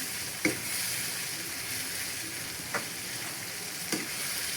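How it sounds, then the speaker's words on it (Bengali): Mashed banana flower and spice paste stirred and fried in a pan, a steady close sizzle with occasional spoon scrapes and knocks against the pan. "পুর বাটাটা দিয়ে আমি ভালো করে নেড়ে চেড়ে"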